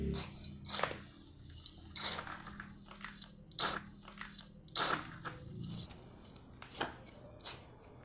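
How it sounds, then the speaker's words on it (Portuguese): Potting substrate mixed with ash and manure, heard as a series of close, crunchy, gritty scrapes and rustles in irregular bursts about every second, with quiet gaps between. "Agora eu vou misturar bem."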